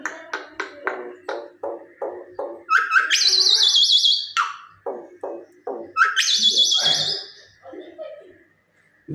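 A pet myna bird gives a run of sharp repeated chirps, then long whistled warbling calls that return after a short break, loud and close, with a person coaxing it in between.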